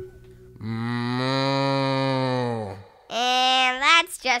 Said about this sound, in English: That's just a cow.